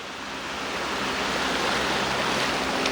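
White Oak Falls roars as a steady, broadband rush of falling water, loud and close, continuous without any speech.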